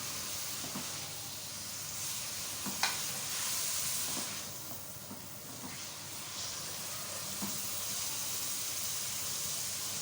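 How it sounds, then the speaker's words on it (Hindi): Mutton keema with potatoes sizzles and hisses continuously while being browned in a karahi, a steady frying crackle with occasional stirring scrapes and no voices. "अभी इसको भूनें अच्छी तरह से।"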